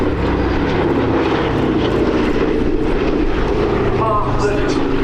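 Aircraft at the Abingdon Air and Country Show 2025 flying past trailing smoke to simulate damaged engines, a loud, steady propeller-engine drone filling the whole stretch, with a commentator talking over it.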